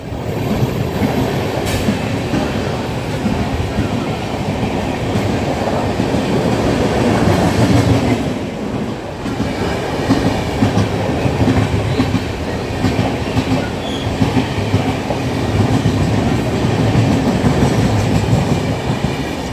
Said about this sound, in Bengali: একটা এক্সপ্রেস ট্রেন আসছে